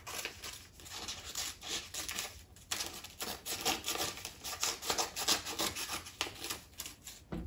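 Scissors cutting all the way around a paper envelope, with continuous close rasping and snipping, steady and fairly quiet, without speech.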